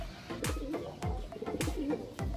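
Close pigeon coos from a bird bred by a pigeon-genetics breeder, several soft low calls repeating in a steady rhythm with sharp percussive taps between them.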